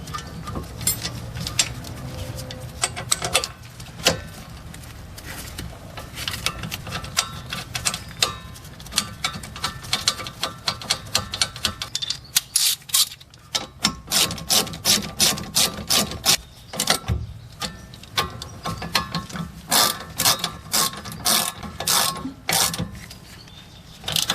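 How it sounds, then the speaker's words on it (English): Hand ratchet threading caliper bolts in during a wheel bearing replacement on a Pontiac Grand Prix, with rapid repeated pawl clicks in fast bursts across the span, close and fairly loud, over a light mechanical background. "go ahead and just thread your caliper bolts in there"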